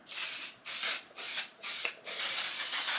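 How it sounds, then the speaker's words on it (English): One Size On Till Dawn makeup setting spray is misted in four short close bursts, followed by a longer continuous spray, with a loud hiss and no talking. "I'm gonna be using this setting spray. This is the One Size On Till Dawn setting spray."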